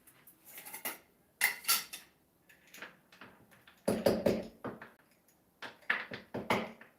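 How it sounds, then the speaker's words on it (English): A knife chops chocolate on a kitchen surface close by: irregular clusters of sharp, crisp clacks and scraping strokes, separated by short pauses, with no talking. "I need some chopped chocolate, but I also hate chopping chocolate."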